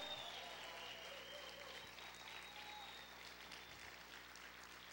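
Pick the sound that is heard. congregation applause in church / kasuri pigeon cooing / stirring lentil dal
congregation applause in church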